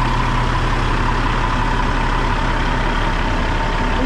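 Stock 22-year-old Kenworth W900L truck idling close up, a deep steady diesel rumble with constant loudness throughout.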